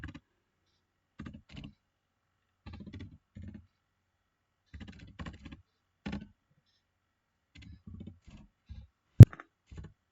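A computer keyboard being typed on while entering a GST number in Tally ERP 9. Short, quiet clusters of key taps are separated by pauses, with one sharper click near the end.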